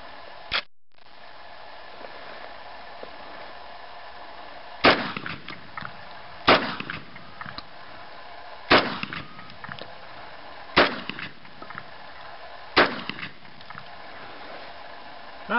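Vepr 12 shotgun firing double-aught buckshot, five loud sharp blasts spaced about two seconds apart, each followed by a brief echo and mechanical clatter, with an earlier single report near the start.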